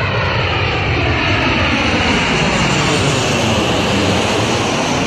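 A propeller airplane passing overhead with a loud, steady engine drone that fills the whole stretch, close and constant.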